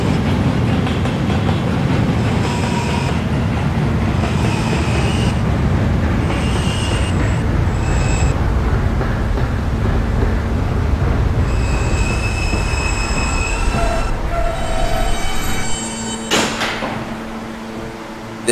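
An R subway train runs along the N line at night toward Ridgeworth Island, its steady loud rumble joined by repeated high wheel squeals on curves, easing slightly near the end.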